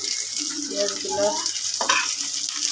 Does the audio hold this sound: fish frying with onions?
yes